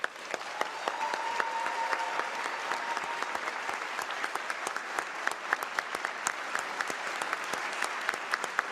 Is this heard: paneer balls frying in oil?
no